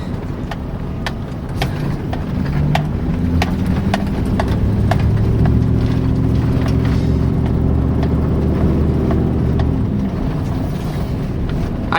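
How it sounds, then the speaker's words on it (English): A Chevrolet Silverado engine with a Corsa Sport exhaust and a leaking exhaust manifold idles with a low, steady rumble and a sharp ticking puff that fades out, heard up close without talk. "I can hear the exhaust leak through the manifold more than I can hear the actual exhaust."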